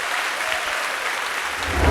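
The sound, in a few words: congregation applause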